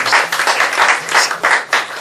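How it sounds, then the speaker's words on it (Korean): A short burst of clapping from a small church congregation at an afternoon service, close and lively, with uneven rhythm over two seconds. "박수 한번 해주세요."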